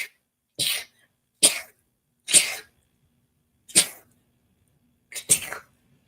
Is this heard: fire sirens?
no